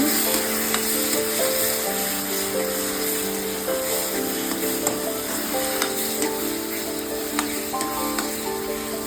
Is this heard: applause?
no